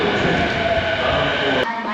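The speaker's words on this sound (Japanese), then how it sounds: "今度は代々木上原行きの電車になります。" A Tokyo Metro Chiyoda Line train bound for Yoyogi-Uehara runs from Kasumigaseki as a loud, steady underground rumble with a faint tonal whine, cut by a brief sharp change near the end.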